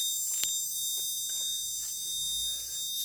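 A coal mine safety sensor alarm sounds as a steady, high electronic tone held throughout, with a few faint knocks and clicks underneath, fairly quiet and with no voices.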